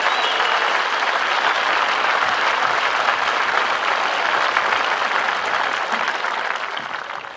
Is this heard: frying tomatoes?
no